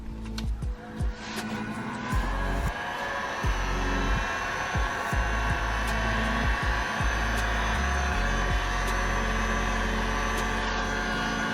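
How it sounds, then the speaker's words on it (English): Heat gun blowing steadily on adhesive around Powerflex rear diff bushing inserts of a Ford Focus RS, a continuous close airy roar with a low hum running throughout, broken by scattered knocks and bumps. "we're going to hit it with a heat gun to try and loosen the adhesive a bit"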